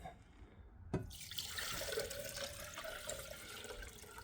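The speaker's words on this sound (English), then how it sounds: "I'm going to pour into this large measuring cup here" Liquid pours steadily into a large measuring cup after a sharp knock, a continuous close splashing stream that runs alone for several seconds.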